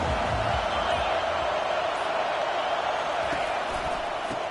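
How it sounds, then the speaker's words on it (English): A football stadium crowd at an NCAA game roars in a dense, steady wash of noise that holds loud throughout, with no clear break or single voice standing out. "This crowd bringing an ear-splitting welcome to their visitors."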